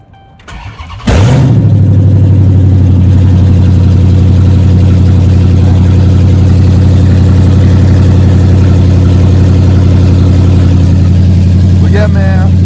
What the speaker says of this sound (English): I'm gonna give y'all a little cold start right quick